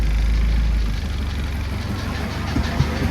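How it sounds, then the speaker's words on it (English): A car engine with internal engine knock idles loudly and steadily, a low rumble with faint irregular ticking through it. "Sounds like we might have internal engine problems."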